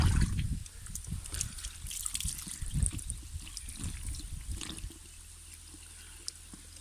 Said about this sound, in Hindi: 3 से 4 बार एक दफ़ा फिर पानी के साथ अच्छी तरह इसको वॉश कर लेंगे।